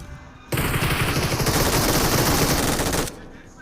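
A sustained burst of rapid automatic gunfire in the video game BGMI rattles loudly for about two and a half seconds, then cuts off abruptly.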